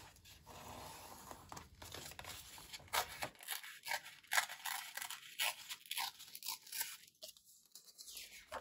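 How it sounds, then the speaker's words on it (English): Paper journal page being trimmed during crafting, with close, dry tearing and crunching rustles in irregular bursts, fairly quiet, no talking. "let's trim that part off too."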